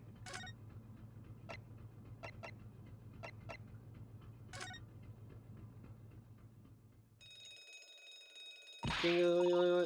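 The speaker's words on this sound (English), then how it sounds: "Oh, the alarm?" Late on, an alarm in The Great Ace Attorney rings out, a loud sustained electronic bell that cuts in abruptly after a stretch of rumbling train-like ambience with sharp metallic chimes.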